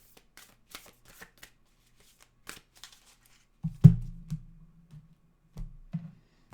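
A deck of oracle cards is handled and shuffled close up, with soft flicks and taps at first, then a few louder riffling bursts of card shuffling.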